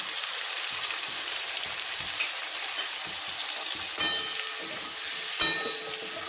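Raw fig curry fries in a pan as coriander powder is added, a steady close sizzle with a few louder crackles and stirring scrapes, with no talk.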